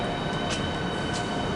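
A six-coach Southeastern HS1 train at Stratford International in Train Sim World 3, giving a steady, loud rolling rumble with a broad hiss and no voices.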